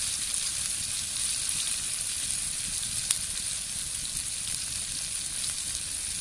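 Spices hit hot oil in a frying pan, giving a steady, close sizzle with a crackling hiss that runs unbroken, one small pop partway through, and no talking.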